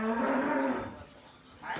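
A single low cow moo sounds close by for under a second, followed by quiet.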